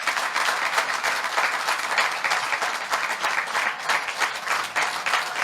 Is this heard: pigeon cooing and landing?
no